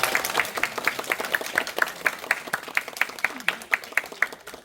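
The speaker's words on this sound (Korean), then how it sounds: "오늘 이 자리에 같이 해주신 여러분께 박수 한번 부탁드립니다" An audience claps at an open rehearsal talk for a national dance company's stage work. The clapping comes as loud, quick, evenly spaced claps that stand out sharply, with light murmuring behind them.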